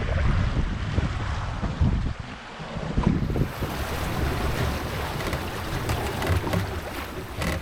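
Strong wind gusts roar across a sailboat running downwind at sea in about 20 knots, a continuous buffeting rush over microphone wind noise and water wash, with no voices.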